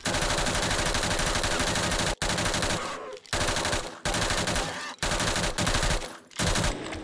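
Sustained automatic AK rifle fire in 7 Days to Die, loud and close, coming in long bursts broken by several brief pauses while zombie bears are shot at inside a small room.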